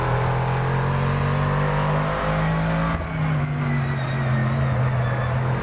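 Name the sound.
old Dodge race car engine in GT2 racing video game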